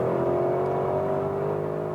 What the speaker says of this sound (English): That titanium exhaust is really getting louder.